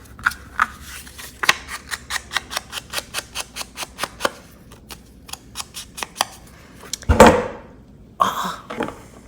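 Scissors snip repeatedly in a quick, even rhythm, crisp close-up cuts trimming paper for a junk journal cover, followed by a few louder clattering knocks.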